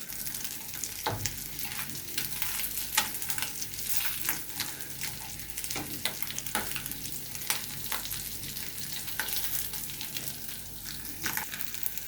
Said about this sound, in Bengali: মাছটা মশমশা করে ভাজা হয়ে গিয়েছে,